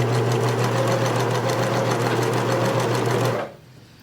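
A sewing machine runs steadily while stitching fringe on kitchen linens, a loud close rapid mechanical whir with an even stitch rhythm that stops abruptly near the end.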